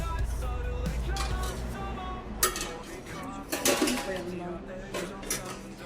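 Hard plastic clatter and a few sharp knocks as the fry filter is pulled out of a Beko Fit Fry air fryer, with someone talking throughout.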